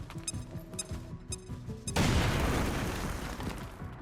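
A frag grenade explodes in XCOM: Chimera Squad and blows a hole through a wall, a loud sudden boom that rolls into a long, rumbling debris roar after a couple of seconds of quieter game sounds.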